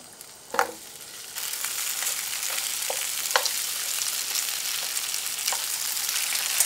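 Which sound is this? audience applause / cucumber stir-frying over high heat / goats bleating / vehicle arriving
cucumber stir-frying over high heat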